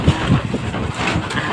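Strong wind in the Philippines buffets the microphone with a loud, continuous low roar and rumbling gusts.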